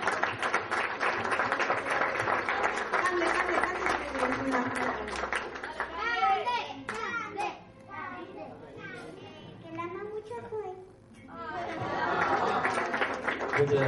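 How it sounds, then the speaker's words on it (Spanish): Guests at a baby's first birthday and baptism party clapping together, a broad wash of applause at the start that fades under chatter and children's voices, then swells again near the end. "Y nada más, un aplauso."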